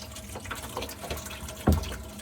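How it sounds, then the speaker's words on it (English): Drain water from an off-grid water setup splashes and trickles into a bucket, a continuous close pour with a sharper splash near the end. "you can hear the drain water going into the bucket"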